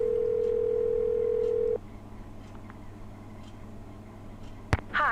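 A telephone in a Nancy Drew video game plays a steady dial tone that cuts off, followed by a quiet stretch with faint ticks and a sharp click near the end, heard alone without talk.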